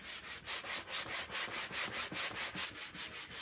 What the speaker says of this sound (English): Then I use these little very light sanding blocks